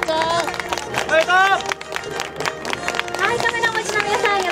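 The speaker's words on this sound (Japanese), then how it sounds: "それでは大きな拍手" An audience at a cycling race award ceremony at an airport criterium claps a steady ripple of applause. A loud voice on a public address system talks over it, and crowd murmur rises and falls.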